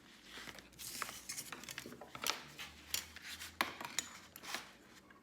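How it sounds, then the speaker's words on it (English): Scissors cutting a square from cardstock for a long-stitch bookbinding project, a series of quiet, close snips and rasping slides of the blades through the stiff paper, heard alone. "I'm going to cut off this square"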